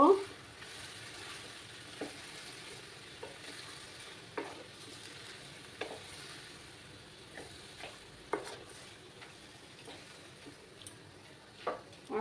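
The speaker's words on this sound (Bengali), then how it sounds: "এবার আমি এটাকে নাড়াচাড়া করব" Taro leaves frying in a pan, a faint low sizzle under periodic light scrapes and taps of a stirring spoon spaced a second or two apart, quiet and close.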